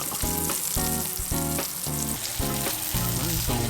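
A ribeye steak sizzles in a cast iron pan with garlic, thyme and unsalted butter. The frying hiss is loud, close and continuous, with music playing underneath.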